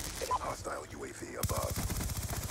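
Rapid automatic gunfire in the video game Black Ops 2 on the Uplink map, a dense burst of quick repeated shots ending the clip after a muffled stretch of game noise.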